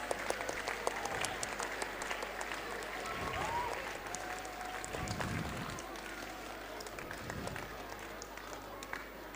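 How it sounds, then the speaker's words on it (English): A school audience applauding during acknowledgements at a production of Into the Woods, a sustained patter of many hands clapping at moderate distance, with a few dull thumps under it. "Please clap for them"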